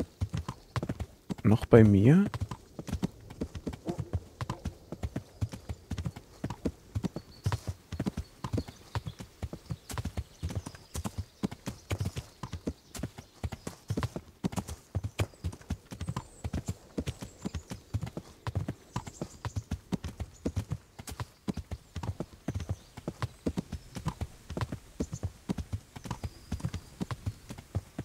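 Horse hooves clip-clop steadily throughout a ride in the medieval video game Kingdom Come: Deliverance, a brief whinny near the start, with someone speaking German over the rhythmic footfalls.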